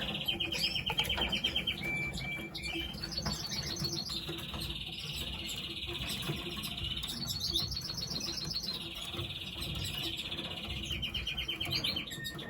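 Caged canaries chirp and trill continuously, with long high warbling runs over a low background hum.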